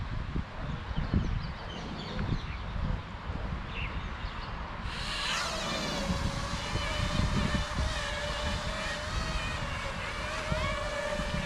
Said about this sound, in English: There is very strong winds, people, like you've seen before.